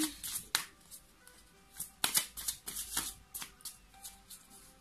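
A deck of tarot cards is handled and shuffled during a reading. It makes soft, close papery riffles and flicks in uneven bursts, with a louder flurry about halfway through.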